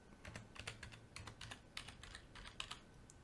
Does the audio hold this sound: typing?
yes